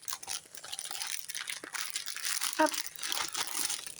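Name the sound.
crinkling noise while unboxing a cross-stitch kit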